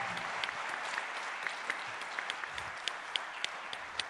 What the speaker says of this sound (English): Can we just get a giant round of applause?